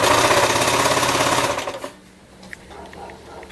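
A sewing machine stitches knit fabric for a DIY halter dress, a loud, steady, rapid mechanical whir running close up for almost two seconds before cutting off into quiet handling noise.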